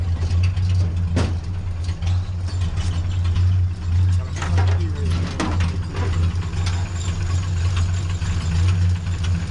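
The V8 in a 1929 Ford Roadster pickup idles steadily in a shop, a close, even low-pitched rumble running throughout with a few faint clicks and knocks on top and no talk.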